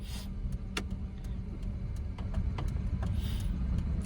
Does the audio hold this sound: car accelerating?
yes